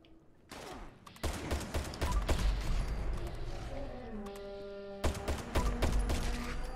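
Crusader pistol shots in the Fallout 76 video game: a rapid burst of sharp, loud gunfire cracks with mechanical clicks between them, then a pause and another volley, with no voices over the shots.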